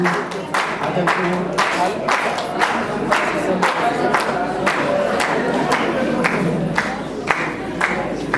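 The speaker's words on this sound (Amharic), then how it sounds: "አጨብጭቡ፣ አጨብጭቡ፣" A crowd of wedding guests claps in steady unison, the beat loud and close. Voices and cheering from the gathering sound alongside it.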